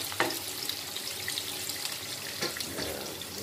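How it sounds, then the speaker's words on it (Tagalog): Garlic sautés in a generous amount of oil in a pan for a pork chilli hotdog, giving a faint, steady frying hiss with a couple of soft clinks and no talking. "Tapos sahaluin siya. Para maluto yung bawang."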